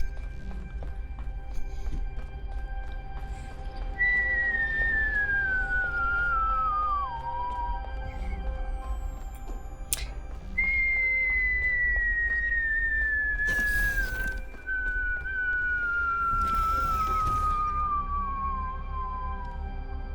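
A person whistles two long descending glides, imitating a slide whistle, each sliding smoothly downward over a few seconds, close and clear above a low steady hum, with brief noise bursts between.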